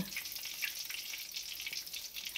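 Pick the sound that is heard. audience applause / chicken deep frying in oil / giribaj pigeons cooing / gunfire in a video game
chicken deep frying in oil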